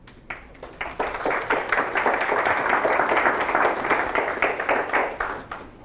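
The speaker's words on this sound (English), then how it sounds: "I'm glad you're clapping at the beginning" A lecture-hall audience breaks into steady applause as a talk on robots and avatars begins. The dense clapping rises quickly, holds loud for several seconds, then starts to thin out.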